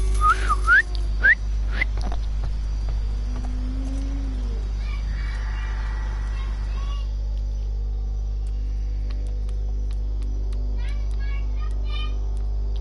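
A person whistling a few short rising notes and a slow gliding tone, fairly close, over a constant low electrical hum, then fading to quieter background.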